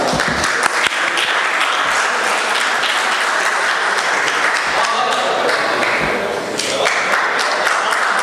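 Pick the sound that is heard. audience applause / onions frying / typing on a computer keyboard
audience applause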